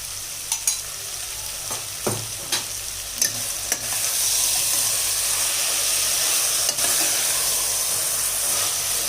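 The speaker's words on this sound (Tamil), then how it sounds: "தயிர் சேர்த்து நல்லா ஒரு நிமிஷம் வதங்கிட்டோம்" Bottle gourd and yogurt frying and being stirred in a pan for a lunch-box bottle gourd biryani, with a steady close sizzle and intermittent scraping stirs, no talk.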